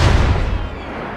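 Cannon fire from artillery in the Napoleonic battle game Total War: Napoleon, a loud, low booming burst at the start that rolls and fades away over a second, with no voices.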